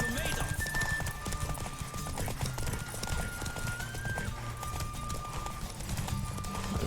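Horse galloping in The Witcher video game, a fast steady drum of hooves with occasional tonal game sounds, loud and continuous under speech.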